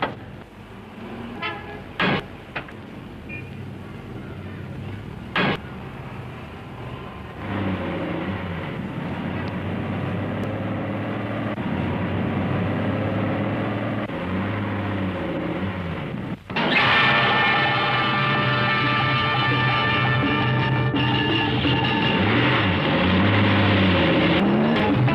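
Cars racing in a chase, a red Ford in pursuit, engines roaring loudly and steadily with a horn toot and a sudden louder surge partway through.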